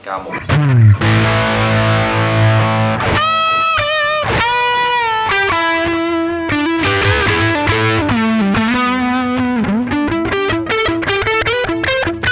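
A heavily distorted electric guitar through a Hughes & Kettner Tubemeister 18 tube amp, playing sustained notes and sliding bends, buzzing and saturated, continuous and fairly loud throughout.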